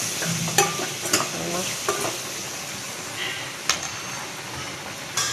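Spices with red chilli powder fry in a hot pan while being stirred, a steady close sizzle broken by several sharp clinks and scrapes of the spoon against the metal.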